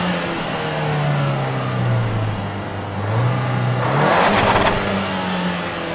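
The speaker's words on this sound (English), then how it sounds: "Accelerates really well and sounds great running up and down the gears." A Ford Fusion with a 1.6-litre EcoBoost engine and six-speed manual gearbox pulls hard, the engine note climbing and dropping as it shifts through the gears, heard steadily and fairly loud from inside the car.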